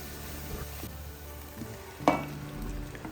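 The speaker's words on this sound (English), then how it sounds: "So I'll let this fry for some minutes." Curry powder and salt fry in a pot as a seasoning base for egusi soup, giving a faint, steady sizzle with a single sharp metallic clink partway through.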